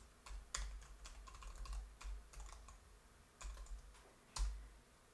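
Someone types a command on a computer keyboard, with quiet, close clicking keystrokes in uneven runs and a few sharper taps, and no talking.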